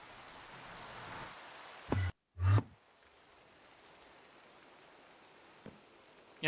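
Rain in the video game Minecraft falls as a steady, soft hiss that runs through the whole stretch, broken by a brief sharp burst and a short dropout near the middle.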